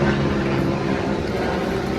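A low, steady aircraft drone with rotor-like rumble passes over a mangrove mud-crab catching spot, loud and continuous throughout with no talk.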